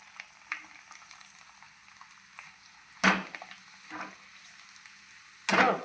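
Potato wafers fry in hot oil with a steady faint bubbling sizzle, broken by two loud hissing bursts as more wafers are dropped in.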